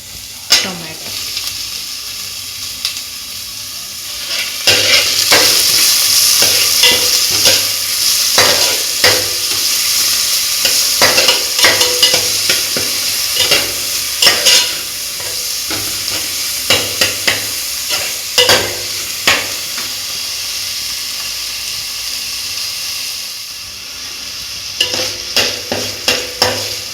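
Tomato frying and being stirred in a pan, a steady sizzle broken by frequent scraping clicks of the spoon against the metal, loud and close throughout.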